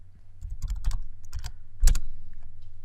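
Someone types HTML code on a computer keyboard, producing irregular bursts of close, crisp key clicks, with a louder clustered strike near the end and no talking.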